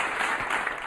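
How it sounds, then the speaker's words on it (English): A podcast studio audience gives a short burst of applause, a steady wash of clapping heard alone, fairly even and close. "Can I have some more applause, please?"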